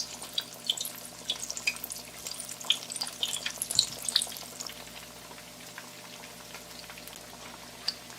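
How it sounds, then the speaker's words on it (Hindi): Mutton chops deep frying in hot oil until golden and crisp, a steady close crackle with scattered sharp pops and bubbling, no talking. "तेल गर्म हो जाए तो इसके अंदर बिस्मिल्लाह डालेंगे कि ना गोल्डन और क्रिस्पी फ्राई करना है"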